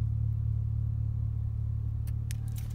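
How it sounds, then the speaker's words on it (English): A car's engine idles with a steady low rumble, and near the end a few sharp clicks come as the remote start sets reservation mode. "You may have heard that click."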